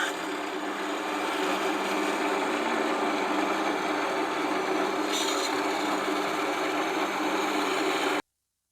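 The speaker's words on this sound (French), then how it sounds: "Je prends une scie. Alors pas une scie japonaise parce que les dents sont inversées. Donc une scie européenne" European hand saw cutting through a wooden log, a steady continuous rasping stroke close up, running unbroken before stopping abruptly.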